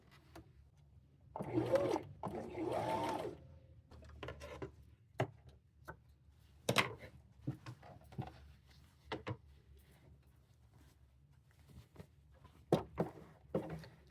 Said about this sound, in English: just got to finish sewing it on